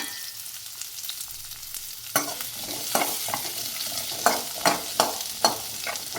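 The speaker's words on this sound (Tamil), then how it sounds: "இப்போ வந்து நான் வெங்காயத்தை ஆட் பண்ண போகிறேன் அது கூடயே எடுத்து வச்சுருக்கிற மூணு வரமிளகாயும் ஆட் பண்ணிக்க போகிறேன்" Onions and three dried red chillies hit hot oil in a pan, starting as a soft sizzle that turns louder, with a spoon scraping and stirring in repeated rhythmic strokes, close up and with no talking.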